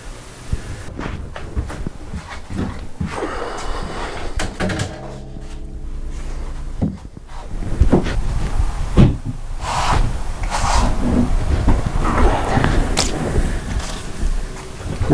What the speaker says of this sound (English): open and close the garage door.